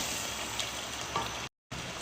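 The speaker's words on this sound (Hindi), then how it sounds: "मिक्स करेंगे इसको अच्छे तरीके से, 5 मिनट की भुनाई करेंगे।" Mutton pieces with chillies frying and roasting in a pan for a gravy, a steady close hissing sizzle that runs continuously, broken by a brief moment of silence near the end.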